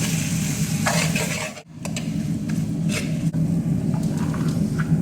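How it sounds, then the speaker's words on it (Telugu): Masala being fried in a pan for a vermicelli chicken biryani, a steady close sizzle with scraping stirs, one brief dropout midway, no talk. "వీటన్నిటిని మసాలా మొత్తం వేసేసుకున్నా వీటన్నిటిని బాగా వేపేసుకున్నాం"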